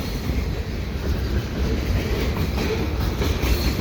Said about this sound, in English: It's been a while since I've seen a CSX train